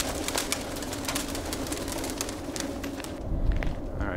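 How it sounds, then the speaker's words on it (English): Pigeons coo inside an abandoned, graffiti-covered building near Lisbon, a soft, continuous murmur of calls with faint clicks and rustles over a steady background hiss. "Oh, more pigeons!"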